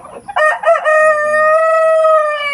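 A black Australorp rooster crows nearby, loud and clear, one long cock-a-doodle-doo with a few choppy notes at the start and a sustained drawn-out final tone.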